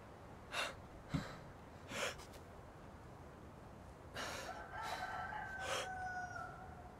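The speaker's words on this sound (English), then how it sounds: "There's the rooster." A rooster crows in the video game DayZ near the North West Air Field. Scattered short calls lead into a longer drawn-out crow, moderately loud over a soft wind-like background.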